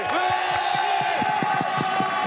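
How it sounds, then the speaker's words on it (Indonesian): An audience at a word-guessing game competition between two teams claps in a fast, regular rhythm, with cheering and whooping voices over the top, loud and close throughout. "Tepuk tangan dulu dong, semangat teman ini."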